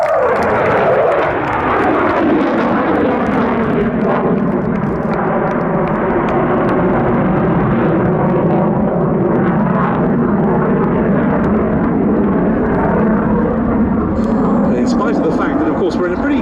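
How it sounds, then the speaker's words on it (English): An RAF Eurofighter Typhoon FGR-4 fighter jet roars loudly and continuously through its departure from an air show display at Duxford, with a dense, sustained engine rumble that slowly shifts in pitch. "Coming in to complete his display with a hopefully spectacular departure, Flight Lieutenant David Turnbull with the RAF Eurofighter Typhoon FGR-4."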